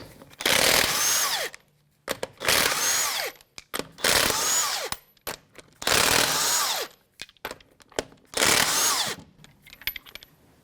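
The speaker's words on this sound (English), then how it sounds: "22mm socket to remove the lug nuts." A power tool with a 22mm socket spins lug nuts off the front wheel of a 2011-2017 Honda Odyssey, five loud close whirring bursts separated by short gaps and small metallic clinks.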